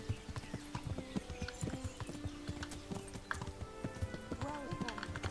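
Steady clip-clop of horse hooves in Kingdom Come: Deliverance at a quick, regular pace, close and prominent, with a voice speaking faintly underneath.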